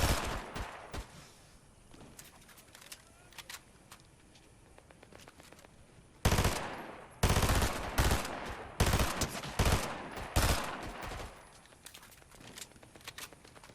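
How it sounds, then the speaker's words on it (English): Rapid SMG bursts from the Thunderburst in Fortnite, a string of loud, sharp volleys in the second half after quieter scattered shooting and movement early on. "I started trying to lay some SMG fire downrange"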